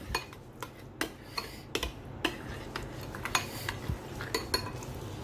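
A spoon mixing honey into a sauce for dynamite chicken, a quick series of light clinks and taps against a bowl, close and fairly quiet.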